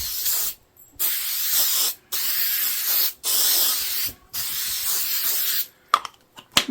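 Adhesive spray hisses onto batting in five or six close, loud bursts of about a second each, separated by short silent gaps.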